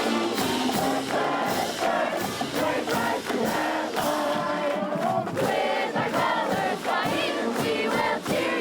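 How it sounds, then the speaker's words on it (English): A football team, marching band and student section singing the fight song together after a homecoming win, a loud massed crowd of voices with band accompaniment filling the stadium continuously. "The jubilant team joins the band and the student section to sing the fight song."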